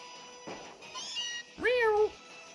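Alolan Meowth's cry in Pokémon Ultra Sun & Moon: two short electronic meow calls, the second louder and rising then falling, with a faint game tone between them.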